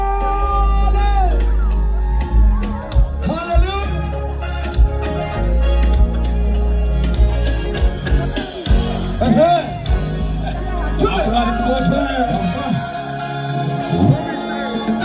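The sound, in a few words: wedding guests applauding and cheering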